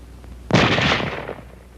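A small-arms cartridge is fired once, giving a loud, sharp report that cuts in abruptly and then fades through a reverberant rumbling tail.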